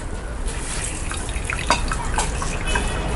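Grape must dripping and trickling through a strainer during homemade wine making, a steady wet patter of drops with a few sharper splashes, close and continuous.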